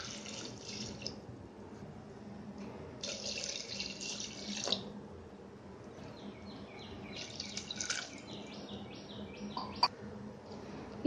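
Water runs from a tap into a cooking pot for drumstick leaf soup, a soft steady trickle with splashy bursts, faint birdsong in the background.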